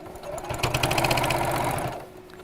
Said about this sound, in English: and top stitch all around the top